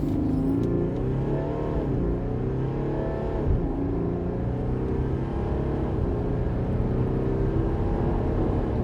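A 2019 Audi Q7 45 TDI with a 231 hp diesel pulls hard on the autobahn, engine note rising and settling through gear changes, loud and close from inside the car, with no voices.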